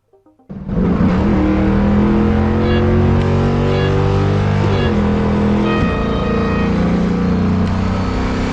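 Race car engine from the mobile racing game Real Racing 3 played on a Teclast X98 Plus tablet, a loud steady drone that starts abruptly after a brief pause and holds with shifting pitch throughout.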